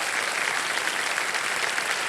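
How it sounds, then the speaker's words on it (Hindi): Studio audience on a television quiz game show claps loudly and continuously, a dense, even wash of hands with no voices standing out. "जोरदार तालियां बज जाए"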